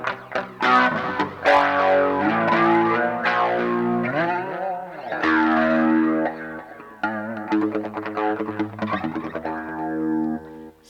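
Electric guitar run through an ART SGX 2000 effects processor, played as sustained distorted notes and chords with chorus, echo and pitch-bending swells, loud and up close with no talking.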